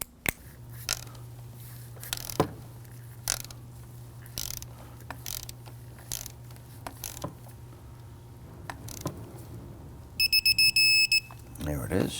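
A torque wrench tightening a screw to 7.3 foot-pounds on a 2009-2017 Volvo XC60 camshaft profile solenoid, faint ratcheting clicks and mechanical knocks, then a rapid run of sharp clicks near the end, with someone talking.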